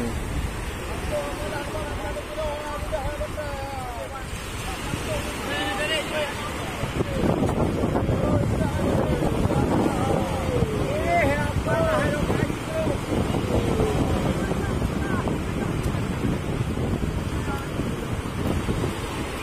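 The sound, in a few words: wind at sea on a fishing boat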